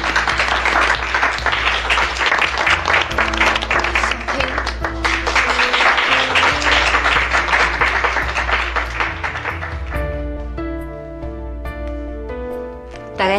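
Audience applause welcoming two performers onto a stage, a dense, loud wash of clapping that holds steady for about ten seconds before fading as music takes over.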